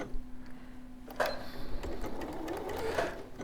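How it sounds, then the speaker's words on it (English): A sewing machine stitches a straight seam for a gingham tote bag in short runs, a soft start and then a steady loud burst from about one second on, close up, with no talk. "Then you've sewn your seam there with your sewing machine."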